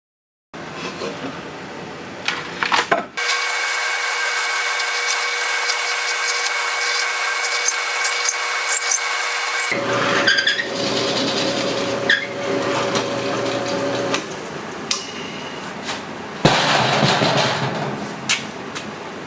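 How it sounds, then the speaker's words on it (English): Steady grinding whir of a drill press boring into spalted oak for a dining table, running for several seconds, stopping, then starting again briefly. "So let's get back to the drill press"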